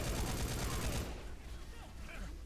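Rapid sustained bursts of M60 machine gun fire in the video game Left 4 Dead 2, loud and dense for about a second before cutting off, followed by softer scattered game noise.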